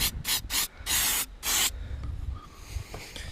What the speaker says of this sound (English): spray this shaft with silicone spray and get that collar